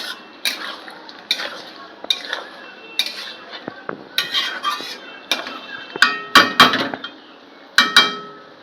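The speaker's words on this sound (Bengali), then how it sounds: "এবার আমরা এর মধ্যে দিয়ে দেবো মাংসের মধ্যে দিয়ে দেবো গ্যাসটা একটু হাই করে দিয়ে নাড়াচাড়া করবো" Mutton curry with added spice water being stirred in a pan over high gas; irregular metal spoon scrapes and clanks against the pot, close and fairly loud, with a faint bubbling underneath.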